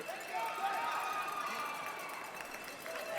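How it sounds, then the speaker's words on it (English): A large crowd at a U23 world wrestling championship roars and cheers, a continuous wash of voices and whistles heard from the arena floor, with a nearby voice talking over it. "As you can hear the crowd"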